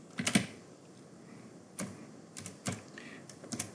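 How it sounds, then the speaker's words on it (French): Keys clatter on a computer keyboard as a password and username are entered to log in, irregular bursts of clicks with short pauses between them, close and alone with no talk. "on tape le mot de passe ainsi que l'identifiant et on se connecte"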